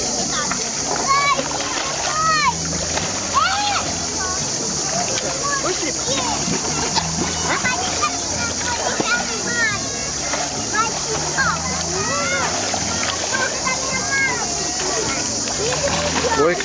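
A child splashes in the sea while swimming on the belly, steady watery splashing running throughout with an adult voice talking encouragingly over it and beach ambience behind.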